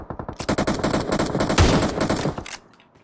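Rapid automatic gunfire from PUBG Mobile on the Miramar map, bursts of close, loud shots rattling steadily for over two seconds before cutting off, with no talk over it.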